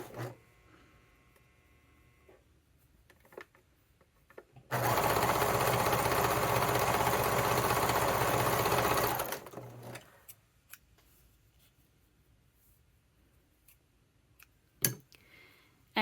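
Electric sewing machine stitching stocking fabric in one steady, whirring run of about five seconds, set between quiet handling noises and a few small clicks.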